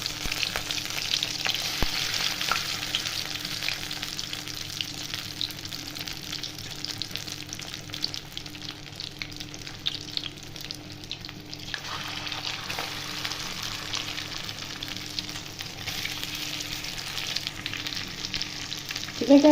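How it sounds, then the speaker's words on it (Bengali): Chicken pieces sizzle and fry steadily in hot oil over a high flame, a dense continuous crackle that stays close and fairly even throughout, with occasional stirring, and no one talking. "এই গরম তেলের মধ্যে আমি চিকেন পিসগুলো দিয়ে ভেজে নেব"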